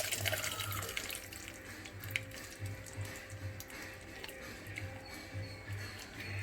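Water runs and splashes steadily into a pan nearby, with a low repeating hum and occasional clinks in the background.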